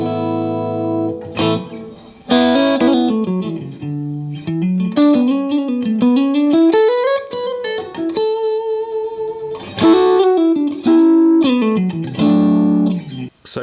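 Distorted electric guitar played through a Walrus Audio ACS1 amp simulator pedal, loud and close, with sustained chords, sliding melodic bends and choppy riffs in bursts and brief pauses, warm tone with a touch of reverb, no talking.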